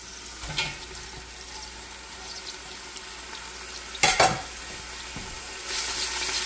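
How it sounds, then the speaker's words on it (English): Onions hitting hot oil for beef stew: a steady close sizzle with a few stirring knocks and clatters, and the frying swells louder near the end. "the oil's good and hot, so we're going to add the onions"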